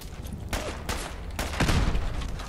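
Rapid bursts of video game gunfire crackle in several loud volleys, the heaviest near the end, with no talk over them.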